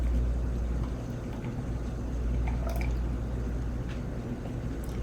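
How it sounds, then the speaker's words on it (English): Heavy cream is poured from a measuring cup into a pan of butter sauce, giving a soft continuous liquid pour and light dripping over a steady low background hum, with no voices. "go ahead and pour that right into your butter sauce"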